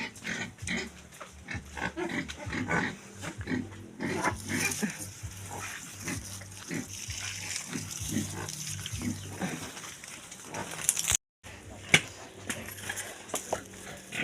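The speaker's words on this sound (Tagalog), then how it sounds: "magpakuan ta sa atong baboy" A pig grunting repeatedly in short, uneven bursts close by, with a dog-like snort or two mixed in, over a faint background; one sharp clunk sounds near the end.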